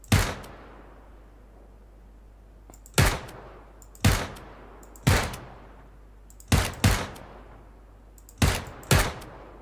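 Gunshots in the battle royale game PUBG ring out as seven sharp, loud reports spaced irregularly, some in quick pairs, each with a decaying echo tail over a steady low background hum.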